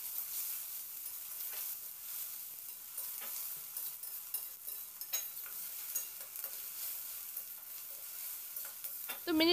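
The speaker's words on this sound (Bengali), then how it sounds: "এবার পেঁয়াজটা দিয়ে মিনিট 3-4 সময় ধরে একটু ভাজা ভাজা করে নেব।" Onion frying lightly in a pan for a pea and potato curry gives a steady, bright sizzle, with intermittent scraping of a spatula stirring through it and no talk.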